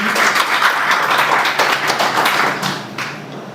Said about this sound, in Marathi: जोरदार टाळ्या वाजवूया त्यांच्यासाठी